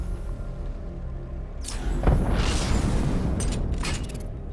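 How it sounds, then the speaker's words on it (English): In the video game Batman: Arkham Knight, the Batmobile's main cannon fires once with a loud booming blast, followed by a rumbling, crackling tail that slowly fades. "when you shoot the main cannon, it turns off your forensic scanner"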